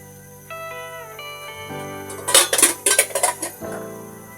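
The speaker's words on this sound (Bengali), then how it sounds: "চুলাতে বসিয়ে দিলাম।" A metal cooking pot is set down on a kitchen stove. Soft tones give way to a quick cluster of clanks and clinks of metal on metal before it settles, close by and with no voices.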